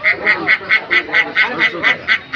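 Ducks at a livestock market give loud, rhythmic quacks, about ten evenly spaced calls repeating steadily and close by, with faint background murmur.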